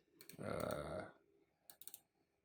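Computer keys pressed during a spreadsheet copy shortcut: a muffled thump of keystrokes early on, then a short cluster of quick, light clicks, close and quiet, with no talking.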